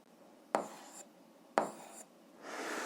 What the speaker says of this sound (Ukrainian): записуємо тоді рівносильну систему рівнянь